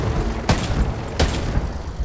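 A helicopter blowing up in the Splinter Cell video game with Sam Fisher, heard as two heavy booming blasts about a second apart over a rumbling low background.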